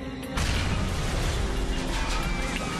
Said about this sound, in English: The explosion on board cripples the flight control system.